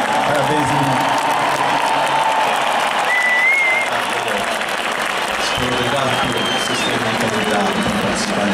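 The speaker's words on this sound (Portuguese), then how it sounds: "Uma salva de palmas também, principalmente" A large stadium concert crowd at Allianz Parque claps and cheers steadily and loudly, a dense wash of applause with whistles rising above it throughout.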